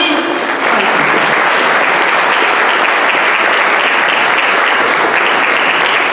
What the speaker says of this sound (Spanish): ¡El aplauso para nuestro amigo Noé!